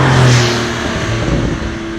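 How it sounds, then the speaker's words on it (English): Porsche 911 Targa 4S with the optional sport exhaust gives a loud, close, low burbling rumble that swells briefly at the start, then settles into a steady throaty idle. "Sport exhaust, and there's your burble tune"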